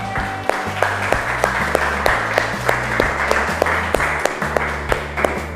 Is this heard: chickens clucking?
no